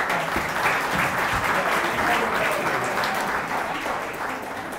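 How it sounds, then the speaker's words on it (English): A dinner audience at a Boy Scouts 100th anniversary event applauding guest Rebecca Fields, a steady wash of many hands clapping that tapers slightly toward the end. "Please give her a round of applause and let's thank Rebecca Fields for joining us"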